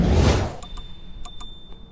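Bell on a Heropick E10 Pro Max electric scooter rings several times with short, bright dings at an uneven rhythm, close and clear after a brief rush of handling noise.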